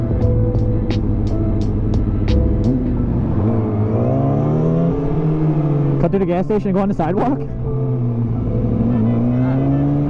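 Traffic near a gas station: a car engine revving and whooshing past mid-clip, with steady vehicle rumble throughout and people talking over the noise.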